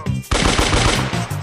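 Rapid bursts of toy-style gunfire ring out in a LEGO Brawl Stars stop-motion scene, loud and near, the shots landing in a fast, steady rhythm after a brief quiet start.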